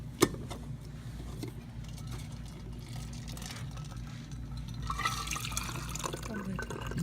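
Meltwater is poured out of an Ozark Trail cooler after a day of holding ice, giving a soft liquid trickle and splash that grows stronger toward the end, with faint voices and outdoor noise.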